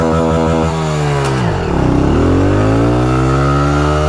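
A motorcycle engine revs hard at close range, its pitch climbing and bouncing against the rev limiter with a steady, loud harmonic whine, dipping briefly before surging again.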